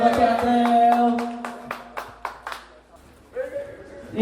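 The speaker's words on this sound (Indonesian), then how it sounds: "Tepuk buat Ci Andreu." At a talk show about motorcycle riders, a handful of people clap in a sparse, uneven burst of separate claps near the mic, mixed with talk and a sustained tone before fading.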